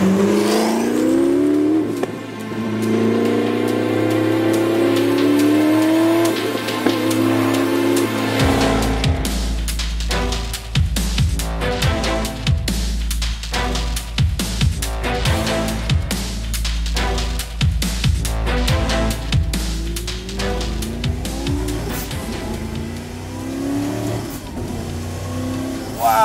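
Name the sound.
Audi R8 twin turbo V8 revving on throttle, wind-up sound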